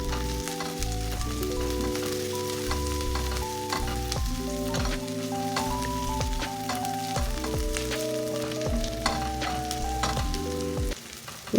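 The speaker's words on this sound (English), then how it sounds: "Stir in and let it saute until translucent and fragrant." Garlic and ginger paste sizzles steadily in a hot pan, a dense, continuous frying hiss with occasional stirring scrapes, close and fairly loud throughout with no talking.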